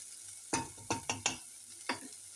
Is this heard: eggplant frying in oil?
yes